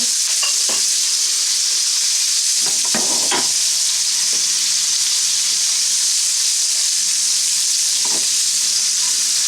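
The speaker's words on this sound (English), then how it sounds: "Just going to fry up these onions really quickly." Onions frying in a pan for shrimp and grits, a steady broadband sizzle running throughout with a few sharp clicks and scrapes of stirring near the start and again later.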